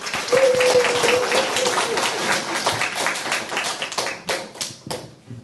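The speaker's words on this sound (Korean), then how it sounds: "큰 박수를 부탁드립니다" An audience at a 2022 residents' community assembly in Seodaemun-gu, Seoul claps together in a dense, steady round that thins into scattered final claps near the end, with some voices underneath.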